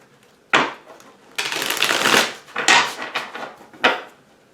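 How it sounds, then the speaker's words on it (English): A deck of tarot cards is shuffled up close in several quick bursts: riffling, sliding and tapping of card stock, separated by brief pauses, with no talking. "Just give these a quick shuffle."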